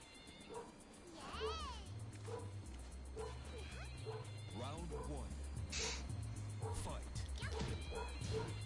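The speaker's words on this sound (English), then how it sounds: "Bark." A dog barks and yips in the background of a Tekken game lobby chat, several short faint barks and whimpers scattered under ongoing talk and game sounds.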